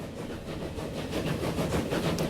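A steam locomotive in the Transport Fever video game rolls along with a steady, dense, close rumble and faint clatter, continuous and fairly loud throughout with no talking.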